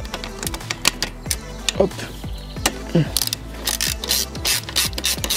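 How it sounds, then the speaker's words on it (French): Ratchet wrench clicking in quick bursts as the drain screw of a Husqvarna 125 TX two-stroke engine is loosened, close and sharp, with a person speaking briefly over it. "Donc là, on va dévisser la première vis de la vidange."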